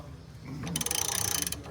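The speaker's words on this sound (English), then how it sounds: "You're compressing the coil so we can pull the whole thing out." A spring compressor is cranked on the coil spring of a 1962 Ford Thunderbird, giving a rapid, even run of close ratcheting clicks over a low mechanical rumble, starting after a short pause.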